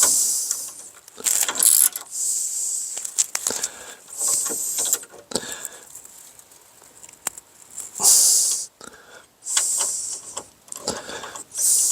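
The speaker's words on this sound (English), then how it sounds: "If it looks like I'm really bearing down, it's only because I got a short-handled ratchet." Short-handled ratchet tightening bolts on a Lexus CT200h, heard as a series of brief clicking and grinding bursts separated by pauses, fairly close with no talking.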